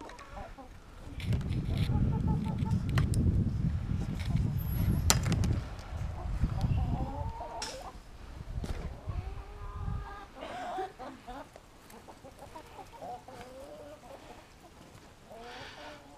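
Chickens cluck inside a coop at close range, their calls rising and falling over rustling and low movement noise, with some human voice in the mix.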